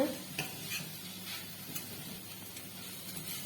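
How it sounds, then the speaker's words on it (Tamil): Narayana greens (keerai) with dried red chillies sautéed in a pan, a soft sizzle under light spoon stirs and small ticking scrapes, quiet and close. "கீரையும் போட்டு ஒரு 2 நிமிஷம் வதக்கிக்கலாம்"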